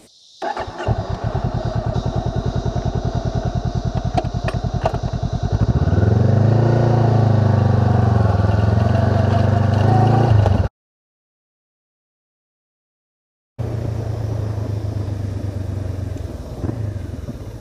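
A Honda CB500X adventure motorcycle runs nearby, its engine idling with a rough pulse before revving up into a loud sustained drone, then cutting out briefly and resuming.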